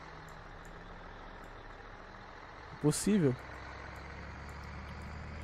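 A heavy truck in the video game Grand Truck Simulator drones steadily as a low, constant engine rumble throughout, with a short burst of voices talking over it near the middle.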